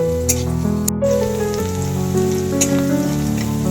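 Soya chunks fry in a pan with a constant crackling, rain-like sizzle, with a steady tonal hum running beneath it the whole time.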